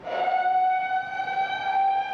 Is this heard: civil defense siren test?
yes